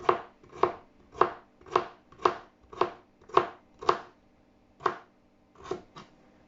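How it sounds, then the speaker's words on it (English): Knife chopping vegetables for Jamaican oxtail on a cutting board: eight steady, evenly spaced chops, then a pause and three more, close and crisp with no talking. "I'm just cutting them so you guys can see how I cut my vegetables to put in my oxtail."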